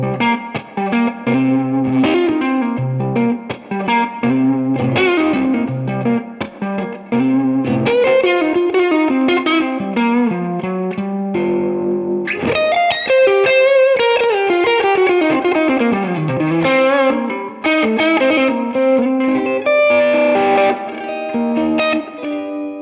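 An electric guitar on its neck pickup runs through a Tube Screamer overdrive pedal, playing mildly driven chords and single-note lines with a warm, sustained tone, loud and continuous with no talking.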